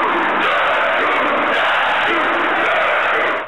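A Lord of the Rings battle cry roared by a stadium crowd of 25,000 cricket fans, a huge, dense, sustained wall of massed shouting that stays loud throughout before cutting off.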